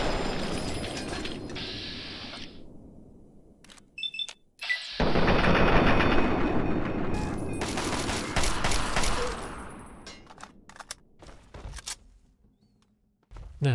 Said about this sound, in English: Let's just keep firing our guns.